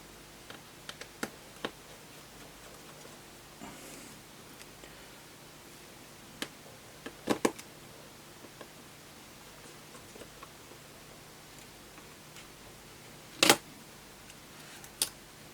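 Tiny screws being removed from a small metal shield inside an iPhone 6S Plus, heard as faint scattered ticks and clicks of a driver and parts over a quiet hiss, with one sharper clatter late on.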